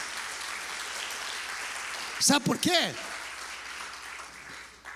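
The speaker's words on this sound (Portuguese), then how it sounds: "pode aplaudir o Senhor" A church congregation applauds in steady, broad clapping that runs through the whole moment, while a preacher speaks a brief question over it in the middle.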